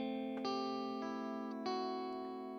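Clean, low-gain electric guitar through a Plexi amp simulator, a few sustained chords ringing out in sequence with long decay, played alone.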